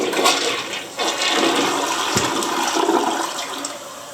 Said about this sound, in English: let's make sure it flushes properly